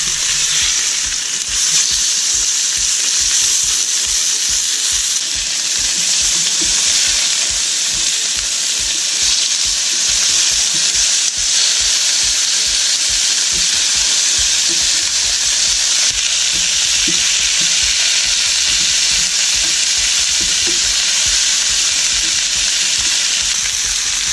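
Salmon and potato cakes sizzling loudly in a hot pan, a dense continuous frying hiss close up with a faint rhythmic low thumping underneath, no talk.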